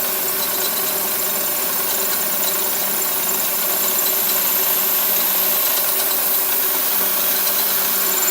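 A Masso-powered Bridgeport milling machine takes a light cutting pass at 1,000 RPM spindle speed and 8 inches per minute feed, giving a steady, continuous motor whine and hum with a faint rattling undertone, unchanging throughout.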